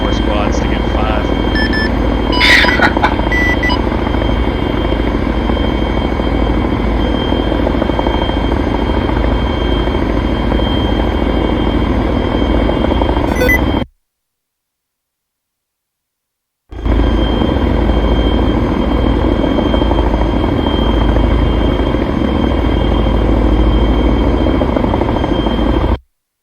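Chinook helicopter in a military air assault video game, a steady loud rotor drone filling the clip with a brief gap of silence midway, with voices talking over it.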